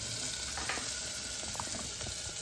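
Sambar simmering in a pot on a home stove, a steady close bubbling and sizzling hiss with soft irregular pops throughout, no voices.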